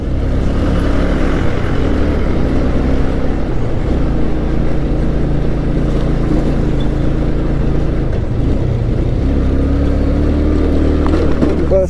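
A motorbike engine drones steadily on a badly broken rural road, a loud, close, continuous rumble with wind buffeting and shifting low pitch as the bike jolts along, with no voices over it.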